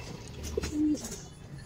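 Pigeons on a pigeon farm give a short, soft low coo once, with quiet background noise around it.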